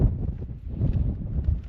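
Cold wind gusting outdoors beside a loch in the north as the light fades into shade, a steady low rumbling buffet across the microphone that swells and eases in waves, with no talking.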